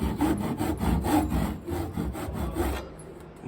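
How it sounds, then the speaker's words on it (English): A saw cuts through wood in steady back-and-forth rasping strokes, close and clear, before stopping as the cut finishes. "just letting the saw cut through"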